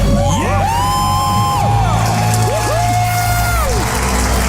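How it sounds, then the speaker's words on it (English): A studio crowd and hosts let out a loud, sustained celebratory scream and cheering after paying off debt, with rising whoops and yells overlapping continuously throughout. "Let's hear a debt-free scream."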